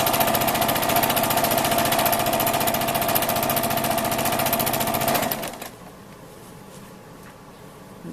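A sewing machine stitches angled seams along a quilted fabric strip, running loud and steady with a fast even hum for about five seconds before it stops, leaving faint room tone.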